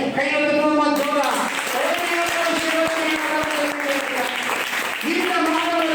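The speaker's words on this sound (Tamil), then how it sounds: "உங்களுடைய ஆரவாரம், உங்களுடைய ஆர்ப்பரிப்பு" A church congregation bursts into applause and cheering, loud and sustained, while a voice carries tonal speech-like lines over the clapping.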